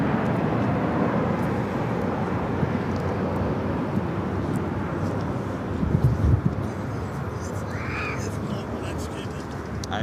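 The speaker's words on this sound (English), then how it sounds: "Our next takeoff here on the south side is Alaska Airlines Flight 1363" An Alaska Airlines Boeing 737-900ER taking off from the south side of LAX, a steady broad roar of jet engines filling the air with crows cawing nearby.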